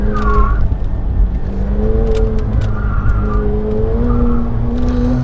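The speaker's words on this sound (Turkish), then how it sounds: "O egzoz da patlıyor" A loud McLaren 720S engine droning and shifting pitch as it revs, with scattered sharp pops and crackles from the exhaust.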